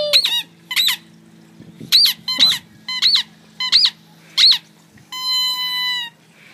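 A squeaky toy football squeaks seven times in a quick, irregular series of sharp, high squeaks, close and loud, followed by a longer drawn-out squeal.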